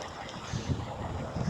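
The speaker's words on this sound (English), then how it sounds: "it's a pretty good wind going today" Outdoor wind on a changeable day rumbles and buffets steadily, low and moderately loud, with gusty swells and no other clear sound.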